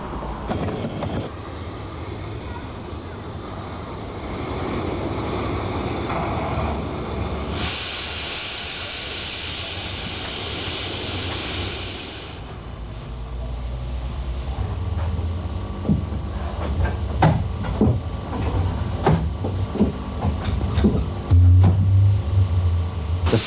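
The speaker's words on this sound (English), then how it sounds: "The first locomotive to depart from New Romney, bound for Hythe, is number 3, Southern Made." Steam locomotive number 3, a 4-6-2 Pacific, departs New Romney station bound for Hythe, with loud hissing steam followed by chuffing and rail clatter as it pulls away.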